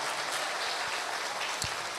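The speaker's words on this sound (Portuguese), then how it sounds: "Queria que todos dessem uma salva de palmas aos nossos professores" An audience applauds teachers at a lecture session, a steady broad wash of many hands clapping together, fairly distant and even, with no voices over it.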